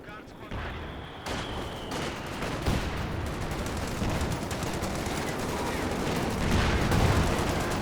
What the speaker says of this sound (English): Good high explosive round there.